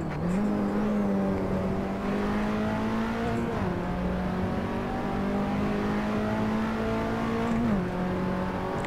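Simulated race car in Assetto Corsa career mode, engine droning steadily at high revs with two brief dips as it shifts or lifts, loud and continuous with no talk.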